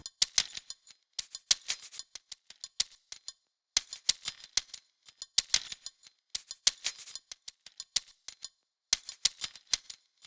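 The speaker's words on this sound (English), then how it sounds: "I decided to lay down some hi-hats with this other loop that I slow it down from 122 BPM to 90" Hi-hat loop slowed from 122 to 90 BPM for a gritty gospel-sample beat: crisp, bright ticking hits in repeating bursts with short gaps between phrases, close and dry, no voices.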